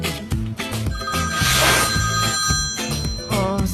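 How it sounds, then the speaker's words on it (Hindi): A telephone rings with a melodic electronic ringtone in the morning, close and fairly loud, repeating its tone pattern for several seconds with no one speaking. "सुबह सुबह फोन।"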